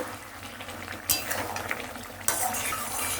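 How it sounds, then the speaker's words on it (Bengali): A spoon stirs and mixes paneer masala curry in a pan, soft scraping and wet sizzling with two sharper metallic scrapes against the pan, fairly quiet and close. "পুরোটা ভালোভাবে আমি মিশিয়ে নিচ্ছি।"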